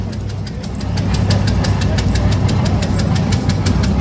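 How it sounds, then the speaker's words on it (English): A 1920 International Harvester Titan 10-20 tractor runs its two-cylinder engine with a loud, steady, rapid knocking beat over deep rumble, close by outdoors and uninterrupted. "Phillips from up at Carthage, Missouri is on a 1920 International Harvester Titan 1020"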